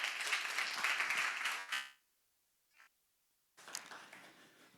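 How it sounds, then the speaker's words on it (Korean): A church congregation applauds to welcome a missionary, a dense burst of clapping that stops abruptly, followed by a brief pause and another round of applause. "우리 목사님 나오실 때 우리 선교사님 나올 때 큰 박수로 환영해 주시겠습니다."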